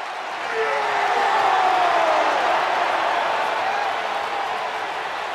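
A wrestling video game arena crowd cheering and roaring loudly in a sustained, swelling wash of noise, with rising whoops in the mix and no clear talk.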